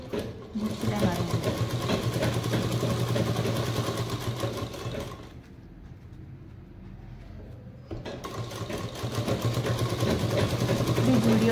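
A sewing machine stitches purse fabric in fast, steady bursts, pausing for a few seconds midway before starting again, while someone talks over it.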